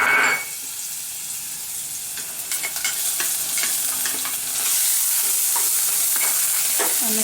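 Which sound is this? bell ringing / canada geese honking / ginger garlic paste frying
ginger garlic paste frying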